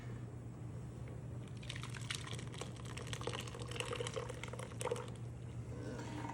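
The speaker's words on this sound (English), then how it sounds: "we can just gently pour it through" Ricotta whey poured gently through a doubled strainer, a faint soft trickle and light splattering of liquid with small irregular drips and clicks, quiet and close, with no talking.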